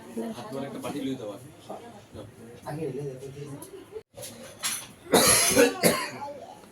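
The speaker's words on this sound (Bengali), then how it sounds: "বাবুর একদম ঠান্ডা লেগে কাশি হয়ে গেছে" A child with a cold coughs in a couple of harsh, close bursts near the end, after a stretch of people talking in a home.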